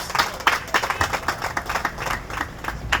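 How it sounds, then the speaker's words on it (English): Scattered clapping from a modest audience at a health department event for World Mosquito Day, a short run of uneven individual claps, moderately close. "So give her a round of applause as she comes."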